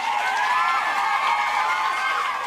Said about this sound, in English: they sailed off to loud applause